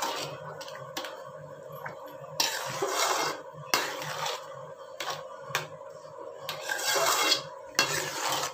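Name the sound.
stirring kesari sweet in a pan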